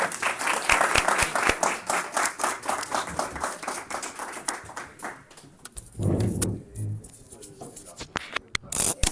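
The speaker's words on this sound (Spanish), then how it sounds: "Y un aplauso, por favor" An audience at a Liberty First talk on amnesty and institutions applauds with crisp, distinct claps that gradually thin out, followed by a brief voice and a few scattered final claps.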